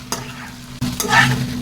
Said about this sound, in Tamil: இப்போ இதை நல்லா பெரட்டி விட்டுறலாங்க